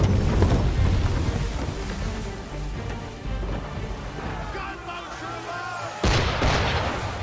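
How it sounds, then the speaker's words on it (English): Cannons firing at a ship in the Assassin's Creed game, with heavy booms over a constant roar of wind and sea, with a fresh blast near the end and voices faintly under the din. "Why is he shooting at us?"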